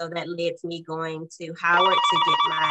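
A telephone rings with a repeating electronic trill that starts partway through and keeps going, layered under and alongside someone speaking close to the microphone.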